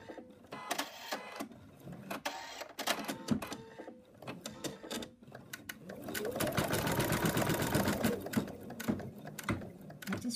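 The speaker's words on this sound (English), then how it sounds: "it's going to now stitch the placement line for the ear" An embroidery machine stitches the placement line for a teddy bear's ear, a fast mechanical whirring and clatter with rapid needle ticks, close and fairly quiet, building to a steadier run partway through.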